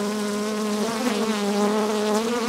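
A large swarm of honey bees, roughly three kilograms caught into a bucket, drones in a dense, steady buzz with layered harmonic hum, close and loud throughout with no talking.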